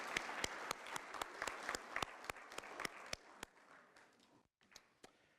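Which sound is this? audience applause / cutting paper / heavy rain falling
audience applause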